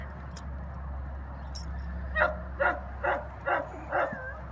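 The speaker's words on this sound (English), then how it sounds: "This is one of the most beautiful Weimaraners I've seen in a long time" A Weimaraner bird dog nearby lets out five short, whiny yelping barks in quick succession, preceded by a couple of faint jingling clinks and over a low background hum.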